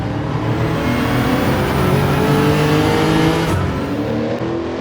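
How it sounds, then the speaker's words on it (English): A V8 Lexus SC430 roars continuously in the Gran Turismo 7 racing game, its loud, steady engine drone holding at high revs with layered harmonic whine and no talk over it. "of course that rumbling V8 sounds absolutely amazing"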